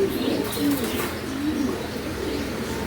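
Pigeons coo steadily at close range, a low rolling murmur of several birds overlapping in a loft of high-speed flying pigeons, with faint chirps above and no talk.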